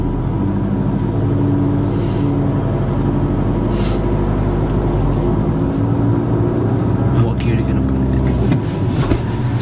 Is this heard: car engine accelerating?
yes